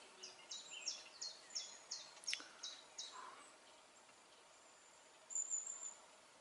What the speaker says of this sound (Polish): Ptaszki śpiewają.